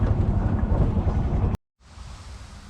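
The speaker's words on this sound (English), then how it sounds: "It's too windy out here." Heavy, rumbling wind buffets the microphone, cuts out abruptly into silence, then returns at a lower level.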